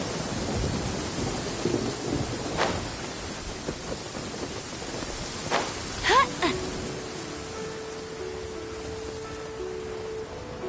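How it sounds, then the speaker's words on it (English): Steady rain with thunder in the video game Genshin Impact, a constant hiss of falling rain with a few low rumbles and crackles partway through. "Oh no, it's raining!"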